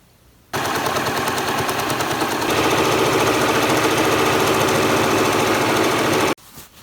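A sewing machine runs a long steady burst while sewing three sides of a Roman blind, a loud close rapid chatter that holds for about six seconds, growing slightly louder partway through before stopping abruptly.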